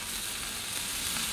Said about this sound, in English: the sound of bacon on a grill of any kind is just an amazing sound